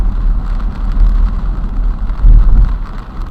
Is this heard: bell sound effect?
no